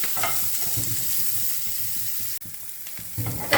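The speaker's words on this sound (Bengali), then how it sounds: "একদম হালকা করে ফ্রাই করে নিয়ে" Chopped onion and green chilli lightly frying in a little oil in a pan, a steady close sizzle with soft rhythmic stirring underneath, a brief dropout midway, then a louder scrape at the end.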